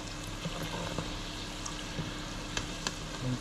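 Chips deep-frying in hot oil for fish and chips, a steady close sizzle and hiss with scattered small pops and crackles, no voices.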